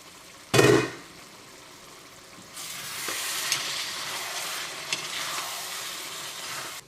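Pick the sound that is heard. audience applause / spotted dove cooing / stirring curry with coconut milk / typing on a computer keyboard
stirring curry with coconut milk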